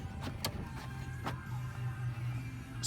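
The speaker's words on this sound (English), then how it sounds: "Dual power sliding doors." A power sliding door on a 2012 Honda Odyssey minivan runs with a steady electric motor hum, punctuated by a few sharp mechanical clicks near the start, with no voices.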